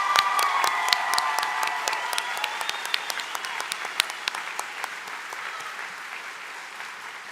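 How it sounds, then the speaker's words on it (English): A large crowd at a graduate commencement ceremony applauds the class of 2022, a wash of clapping with scattered sharp individual claps and faint cheers, fading gradually toward the end. "And one final round of applause for all of the distinguished class of 2022 graduates"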